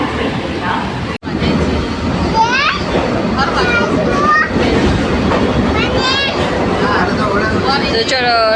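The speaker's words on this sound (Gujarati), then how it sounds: "તો ચલો ટ્રેનમાં બેસી ગયા છે. અત્યારે એસીવાળી ટ્રેનમાં બેઠા છીએ." Steady rumbling of an air-conditioned train in motion runs throughout, with children and adults chattering loudly over it and a brief dropout early on.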